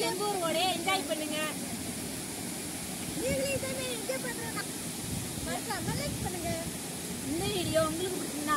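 Water runs steadily through a village stream, a continuous broadband rush that sits under a voice and other people talking for most of the stretch.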